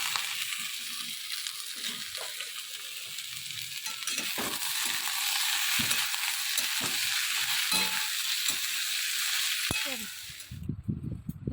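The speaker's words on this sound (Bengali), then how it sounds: "কড়ায় তেল বসিয়েছি, আলুটা ভাজবো, ব্যাস।" Potatoes fry in hot oil in a wok, a close, constant hissing sizzle with scattered clatters and stirring knocks, ending in a few louder bumps.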